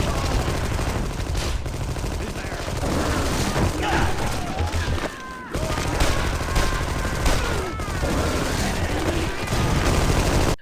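Gunfire in the video game Armed and Dangerous, with dense, continuous bursts of shots and blasts running almost the whole time and a brief lull midway.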